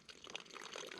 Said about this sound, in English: Filtering up some water.